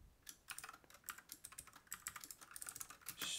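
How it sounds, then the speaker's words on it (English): Rapid typing on a computer keyboard while writing code, a steady stream of light, close key clicks in an irregular rhythm, quiet and alone without talk. "What am I typing?"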